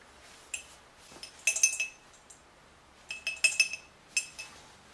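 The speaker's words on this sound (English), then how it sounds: "Sounds like there's something stuck in the pickup tube." Small metallic rattling clinks in short bursts from an object stuck in the oil pump pickup tube of a BMW M52 engine, a few separate knocks then two clustered flurries, close and fairly crisp against a quiet background.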